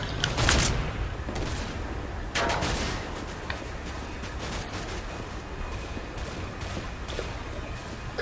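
Gunfire in a Counter-Strike: Global Offensive Arms Race match: a few sharp shots crack out early, followed by scattered lighter pops over a steady background hum, at moderate distance.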